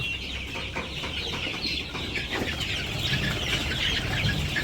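Village chickens cluck continuously while they wait for their morning feed, a busy, steady farmyard chatter with no talk.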